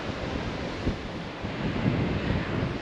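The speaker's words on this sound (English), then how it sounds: "Fairly good breeze coming off the sea this morning." Steady sea breeze buffeting the microphone on a Devon coast path between Paignton and Brixham, with waves washing on the shore beneath; continuous broadband rumble with gusts swelling toward the end, no talk.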